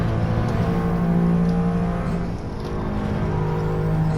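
A stock Honda S660 with a 63-horsepower engine drives on a race track, its engine note steady and close with a slight dip in revs partway through, as if easing off briefly before pulling again.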